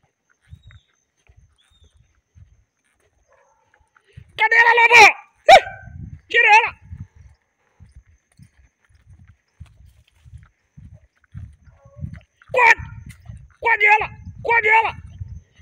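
Hunting dogs barking while tracking a paca along a forest trail: two separate clusters of sharp, close bark bursts, a few seconds apart, over quiet outdoor background with low rustling.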